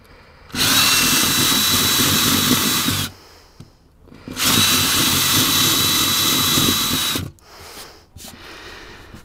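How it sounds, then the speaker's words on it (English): A power drill runs twice at full speed while chain drilling holes in a boat foredeck, each burst a loud, steady whine lasting about three seconds, with quiet pauses between. "I'm just going to chain drill a few holes."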